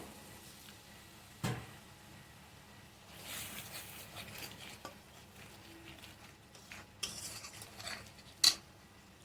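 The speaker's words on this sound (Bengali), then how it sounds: "তো এবার দেখো মশলাটা ভালো করে ভেজে নেবো" Spice paste being fried in a pan for a potato, ridge gourd and soya chunk curry: quiet, intermittent stirring scrapes and utensil clinks over a faint low sizzle, with a few sharper knocks, no speech.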